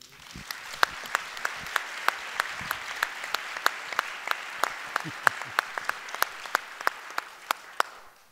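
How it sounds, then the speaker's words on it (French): Applause for the president at a French speech event, heard as sharp, evenly spaced claps of roughly three per second, steady and distinct over a low background murmur. "je pense qu'on peut applaudir Monsieur le Président"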